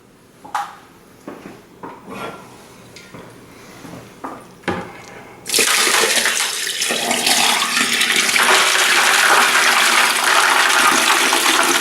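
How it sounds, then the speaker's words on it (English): Water gushes into a bucket to top up a turkey brine, starting abruptly after a few soft clunks and handling knocks, then running loud and steady close by. "We're going to fill this bucket up the rest of the way with water."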